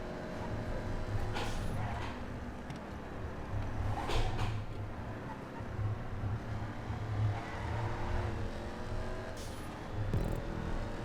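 A Dominator muscle race car in GTA 5 holds a steady, droning engine note at speed on a straight, with small shifts in pitch and no clear pause.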